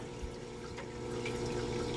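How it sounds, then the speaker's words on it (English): Water pouring down the drains of a 300-gallon reef tank filtration system, a steady close gurgling flow with a low pump hum underneath, continuous for the whole stretch. "So water comes down from the drains."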